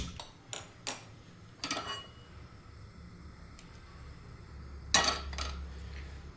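A gas stove being switched on in a home kitchen while making broccoli soup: a sharp burst of igniter ticking about two-thirds through, with a few fainter clinks earlier over a low, steady hum.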